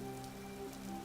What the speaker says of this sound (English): I assume it is actually raining. We can hear rain.